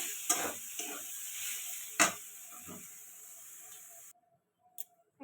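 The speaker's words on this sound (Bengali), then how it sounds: "সয়াবিনটা একটু লবণ আর হলুদ দিয়ে একটু ভেজে নিচ্ছি" Soybean chunks fry in a pan with a little salt and turmeric, giving a quiet, steady sizzle broken by a few sharp stirring scrapes, then a brief pause near the end.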